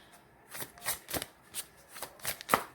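Angel oracle cards are shuffled by hand for a tarot reading, making a rhythmic run of soft, close papery riffles, each burst separated by a brief pause.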